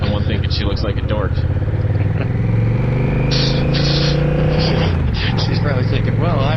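Honda Rebel 1100T motorcycle carrying two riders, its engine droning loud and steady throughout with pitch shifts as it changes speed, wind noise and voices talking over it.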